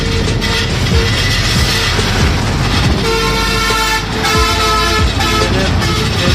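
A bus drives past at night near a railway crossing with steady loud engine rumble, while its horn sounds in repeated toots over the traffic noise.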